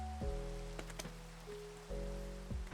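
Steady rain falls in the Minecraft world, a soft, even hiss that runs through the whole stretch alongside sustained tonal game sounds.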